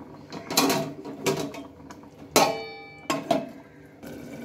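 A lid set down on a cooking pot while pumpkin and potato cook, giving a couple of sharp metallic clanks and a ringing tone around the middle, with softer kitchen clatter before and after.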